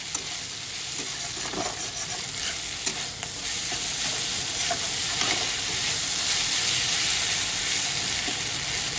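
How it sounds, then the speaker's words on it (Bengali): Bharta with coriander leaves and green chillies fries in a pan over a gas flame turned up high. A loud, continuous sizzle carries on throughout, with occasional scraping as it is stirred. "একটু গ্যাসটা বাড়িয়ে ভেজে নিচ্ছি"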